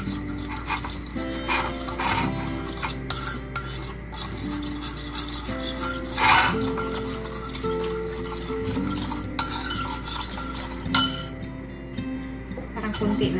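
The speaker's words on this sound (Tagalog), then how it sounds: "Mix lang natin." Cucumber salad being tossed with soy sauce and olive oil, giving soft rubbing, rasping and clinking of utensils against a bowl, steady and close, with a louder scrape partway through.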